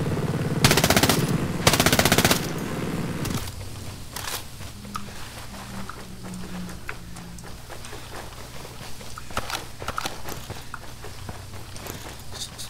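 Gunfire at convoy tires in the video game Ghost Recon Breakpoint: two loud bursts of rapid automatic fire up front, followed by quieter scattered shots, clicks and movement sounds.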